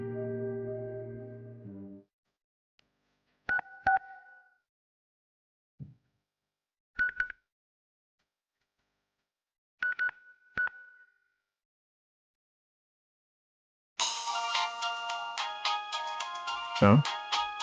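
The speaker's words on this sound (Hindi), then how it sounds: "एक बार फोन करके देखूं क्या?" A phone call is placed: a short burst of touch-tone dialing, then several separated ringback tones with gaps between them, and finally a loud electronic ringtone plays on a mobile phone.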